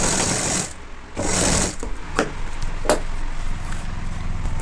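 A sewing machine stitches a uniform pinafore in short bursts, its rapid mechanical whirr starting and stopping close by, with a few sharp clicks and knocks between runs.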